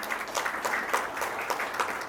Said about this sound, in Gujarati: જોરદાર તાળીઓનો વિવેક.